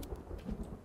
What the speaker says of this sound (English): Yay, rain.